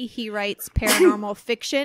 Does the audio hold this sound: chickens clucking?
no